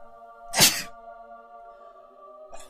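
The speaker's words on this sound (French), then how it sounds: "j'ai éternué combien de fois?" A single sharp human sneeze bursts out loud and close, then a second fainter sneeze-like burst follows about two seconds later, over a steady tonal hum in the background.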